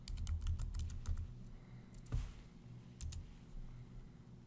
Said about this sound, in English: you want to type in your username, you want to type in your password